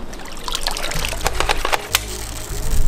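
A water gun is filled by dunking it in a swimming pool, with close, gurgling pours and bubbling trickles over a low rumble for a few seconds.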